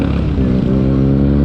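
A Kawasaki Ninja H2 superbike with its original exhaust idles and rumbles loudly up close, a deep throbbing engine tone that stays steady before cutting off abruptly.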